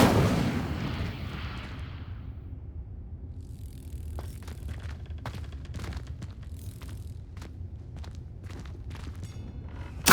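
The Incendio fire spell is cast in Hogwarts Legacy, opening with a loud, rushing burst of flame that fades within about two seconds, followed by scattered soft clicks and thuds over a quiet low background.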